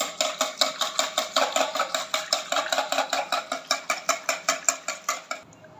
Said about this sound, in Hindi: शुगर ऐड करने के बाद हम इसको विस्क की मदद से अच्छे से मिक्स करेंगे एक दफ़ा